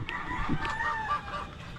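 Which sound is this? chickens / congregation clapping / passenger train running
chickens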